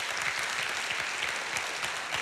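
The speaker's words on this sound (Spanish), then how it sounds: "le recibamos con un fuerte aplauso" Congregation applauding at a church service, with a steady, dense patter of many hands clapping at a fairly even level from start to finish.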